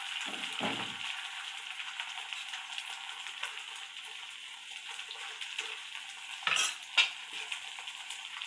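Egg frying in spread oil in a pan for an egg roll: a steady soft sizzle throughout, with a couple of brief clattering utensil knocks near the end and no talking.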